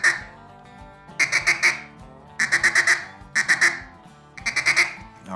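A hand-blown duck call imitates a mallard sitting on the water, sounding a stutter feed: four loud, close bursts of quick, clipped quacking notes, each cluster separated by a brief pause.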